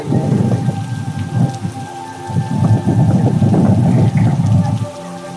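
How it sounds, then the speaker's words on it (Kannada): Rain pours down steadily at Amboli, a loud, close hiss of drops drumming on a surface, with a low rumble and faint hum underneath. "ಇಲ್ಲಿ ಬಂದಾಗ ಮತ್ತೆ ಮಳೆ ಶುರುವಾಗಿಬಿಟ್ಟಿದೆ"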